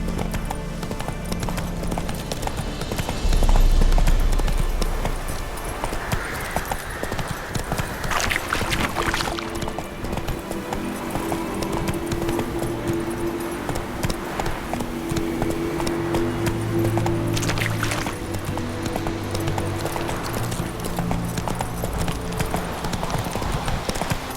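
A horse gallops in The Witcher 3: Wild Hunt, with loud, steady clip-clop hoofbeats over a rushing background and game music, continuing throughout without talk.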